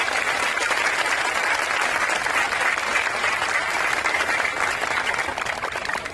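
An audience claps continuously inside a religious gathering tent, a dense, loud and even roar of many hands that carries on for several seconds without speech.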